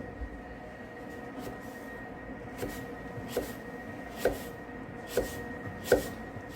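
Soft, sharp knife taps on a board repeat at a steady pace as notches are cut into an apple, growing a little louder, over a faint background hum.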